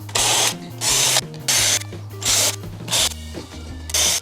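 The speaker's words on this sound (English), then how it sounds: "Now I can just run along and drill it." A power drill bores screw holes in a drawer rail, loud whirring bursts of about half a second repeating in a steady rhythm with short pauses between, close by and with no talking.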